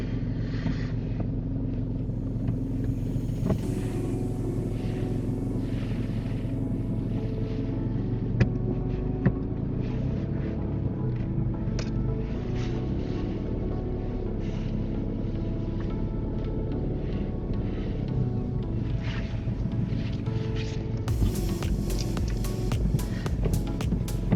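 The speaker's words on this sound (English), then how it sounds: "can you just drive out to the left or right and reverse back and rear of your choice?" A car drives out and reverses during a mock UK driving test, its engine a steady low rumble heard from inside the cabin for the whole stretch, with no speech.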